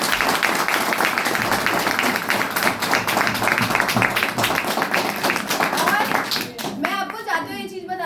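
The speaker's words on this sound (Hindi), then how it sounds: "तो इनके लिए तालियां होनी चाहिए।" An audience applauds at a motivational talk, giving dense, continuous clapping that holds steady and then thins out as a voice begins speaking near the end.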